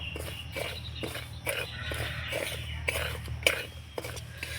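Dry semolina being stirred and roasted in a dry pan, a spoon scraping in a steady rhythm of soft strokes and clinks, faint and close, with no talking.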